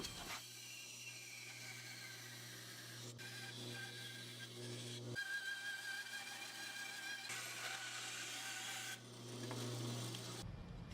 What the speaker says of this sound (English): what I'm going to do is just carefully cut out this piece